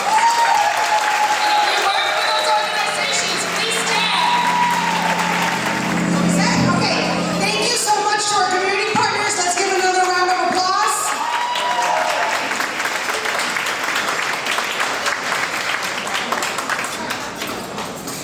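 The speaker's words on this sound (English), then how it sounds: "Let's now give them all a round of applause" Sustained applause from a large audience at a high school's 50th anniversary gala, filling the room steadily for the whole stretch, with voices, whoops and a brief low tone mixed into the dense clapping.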